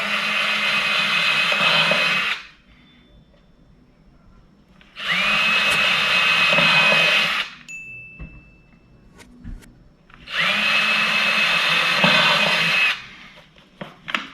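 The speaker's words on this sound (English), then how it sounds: "drill a little pilot hole" An electric drill whines in three separate bursts of a few seconds each, boring a pilot hole while installing a Defender security lock, close and loud, with quiet pauses between them.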